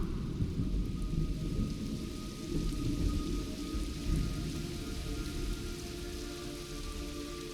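Heavy rain pours steadily with deep rumbling thunder rolling underneath in a stormy scene from the video game Metal Gear Solid Snake Eater, a continuous dense wash of drops with low booming swells and no voices.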